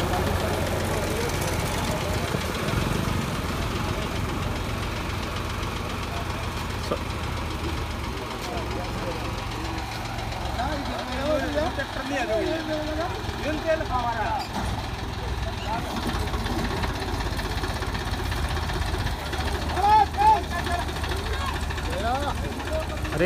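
A tractor engine, either a Mahindra 265 or a Sonalika 35, runs loud and close in a tug-of-war contest, with a steady diesel rumble and slight revving as people talk over it.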